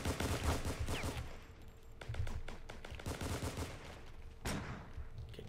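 Gunfire in the War Inc shooter game, with rapid automatic bursts and repeated shots crackling almost continuously, loud and close with brief pauses between volleys.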